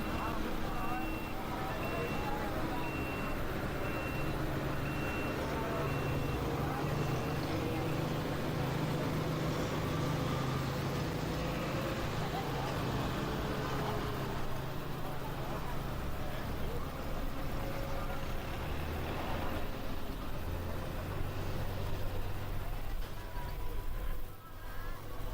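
A tractor named Foghorn Left Horn makes a pulling run on the track at a Saturday night truck and tractor pull, its engine droning steady and loud under an announcer's voice the whole way.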